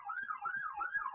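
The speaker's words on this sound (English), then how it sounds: "let the sirens outside roll on by" Emergency vehicle sirens pass outside, a faint, steady wailing tone that rises and falls in slow cycles, distant and muffled as if heard through a window.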